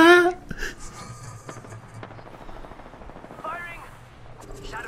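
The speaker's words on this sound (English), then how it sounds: "They're shooting at me." Gunfire in Apex Legends's Shadow Royale mode crackles in rapid automatic bursts, loud at the start and then a dense stream of close shots over game effects and chirps.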